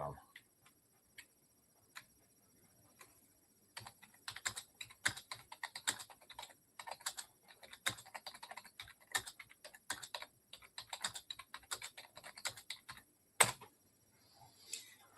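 Computer keyboard typing in quick bursts of close, crisp key clicks with short pauses in between, run to search something on Google, fairly quiet, with a few louder taps.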